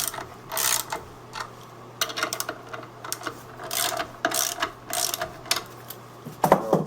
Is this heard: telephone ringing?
no